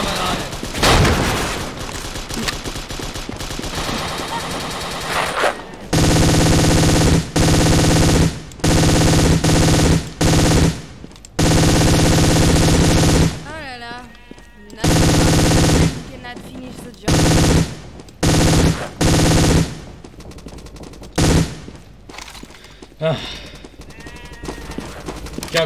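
Bursts of machine gun fire from a captured MG emplacement in the World War II dinosaur shooter Dino D-Day, loud and close, in repeated sustained volleys broken by short pauses, with a few other gunshots scattered through.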